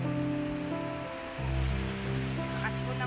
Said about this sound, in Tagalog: Lakas po ng ulan